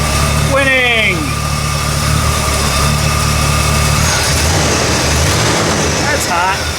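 An Oldsmobile 442 engine idling with the alternator charging and the compressor running, a loud steady droning hum close by, with a voice talking over it.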